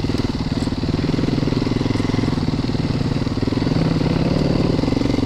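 A Christini AWD 250cc big-wheel motorcycle engine runs steadily and close by, a loud, buzzing, rapidly pulsing single-cylinder drone that holds an even pitch throughout.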